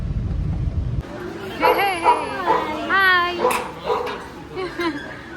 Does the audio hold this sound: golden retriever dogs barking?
yes